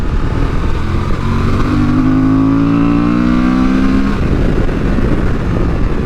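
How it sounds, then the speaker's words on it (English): A 2023 Honda Transalp XL750 motorcycle engine revs hard, climbing steadily in pitch over a few seconds before dropping back, loud and close. "it's keen to rev, this engine"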